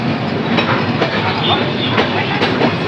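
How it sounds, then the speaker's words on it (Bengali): A train leaving Kushtia Court railway station, heard from on board as a loud continuous rumble with regular clickety-clack beats of the wheels passing rail joints. "কুষ্টিয়া কোর্ট রেলওয়ে স্টেশন ছেড়ে যাচ্ছি"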